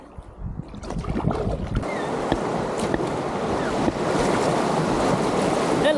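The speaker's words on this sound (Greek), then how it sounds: "Έχει και τέλεια ροή το ποτάμι." A fast-flowing river rushes around a kayak in Patagonia, a steady loud wash of water with wind noise buffeting the microphone throughout.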